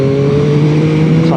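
A 2021 Yamaha MT-09 motorcycle's three-cylinder engine with a reworked airbox, a loud, close, steady engine tone held for about a second and a half.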